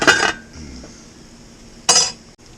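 A metal lid clanks onto a pot of simmering homemade tomato sauce: a sharp clink at the start, a quiet lull, then a second louder clatter near the end, with no voices.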